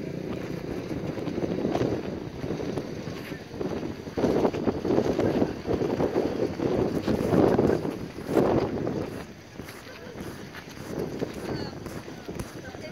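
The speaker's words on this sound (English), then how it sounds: "It's in about a 20 mile an hour wind he's doing this." Strong wind of about 20 miles an hour buffets the microphone outdoors while a tall bike is ridden, making a steady low rumble that swells and fades, with a voice talking over it.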